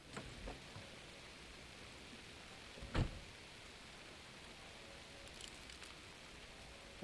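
Steady hiss of rain falling in the video game Alan Wake 2, soft and continuous, with a single sharp thud near the middle and a few faint clicks.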